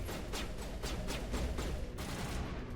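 Pistol gunfire in the Mass Effect video game, a run of evenly spaced shots, fairly faint and set against dense background battle noise.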